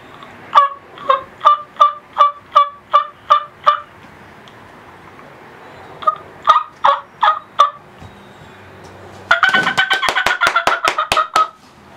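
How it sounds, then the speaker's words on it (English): A wild turkey hen gives her fly-down cackle: a measured run of loud, evenly spaced yelps, a short pause and a few more, then a fast burst of quick cackling notes, close and clear outdoors. "That's the fly down cackle."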